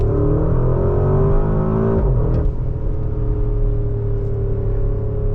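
A 2024 Porsche Cayenne Turbo GT's engine drones loudly from inside the cabin while driving, a deep steady hum that dips briefly as the revs shift and then holds again.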